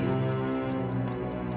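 A clock ticks in a steady, even rhythm, with about eight crisp ticks over a low sustained musical drone.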